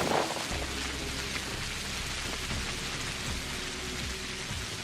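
Heavy rain in the video game Pathologic pours down loudly and continuously, a dense, steady hiss of drops with a low rumble beneath.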